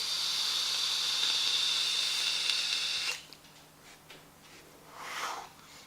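A steady, airy hiss from a draw on a Vaporesso Revenger X kit with an NRG tank and the airflow wide open lasts about three seconds, then drops away into faint exhale and rustling.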